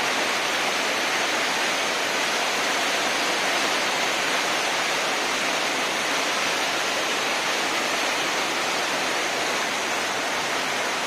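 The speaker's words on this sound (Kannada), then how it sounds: "ಇಲ್ಲಿ ನೀರು ಹೋಪ ಫೋರ್ಸ್ ನೋಡಿ" Heavy water rushes through the Nekkarekalaya dam during rain, a loud, steady broadband roar that continues unbroken from start to finish with no voices.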